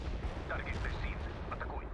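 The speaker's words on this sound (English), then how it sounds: "Launching a barrage." An artillery barrage launching in the video game World in Conflict, dense rumbling booms and crackling blasts overlapping in a continuous low roar with game voices in the mix.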